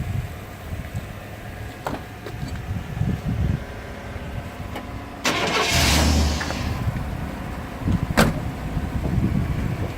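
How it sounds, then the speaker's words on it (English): Two GMC pickup trucks, a 2017 and a 1997, idling side by side, a low steady engine rumble with a louder mechanical burst midway and a sharp clack near the end. "we'll do a side-by-side comparison of how these trucks idle"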